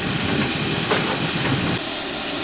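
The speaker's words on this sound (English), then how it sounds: "And number 9 is dumping its coals" Steam locomotive No. 9 on a heritage railway hissing steadily as it dumps its coals, a broad continuous hiss with faint clanking underneath, close by and without talk.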